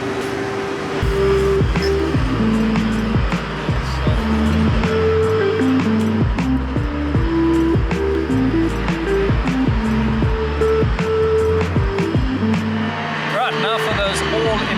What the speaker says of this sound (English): Apologies for the noise. They're busy working on the tram lines at the moment.